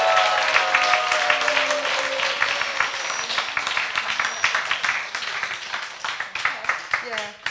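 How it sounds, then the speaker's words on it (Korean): A church audience breaks into steady welcoming applause, dense clapping filling the room with scattered voices and a few cheers mixed in near the end. "여러분 이분이 다시 왔으면 좋겠으면 여러분 환영의 박수 해주세요"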